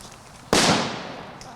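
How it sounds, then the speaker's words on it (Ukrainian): A single loud explosion at a military training ground bursts out and rolls away over a second, with a faint distant pop afterward against steady background noise. "А далі вибухи."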